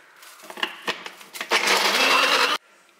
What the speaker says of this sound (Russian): Потом берем кофемолку или блендер, либо же просто можно скалкой грецкие орехи и измельчаем их в крошку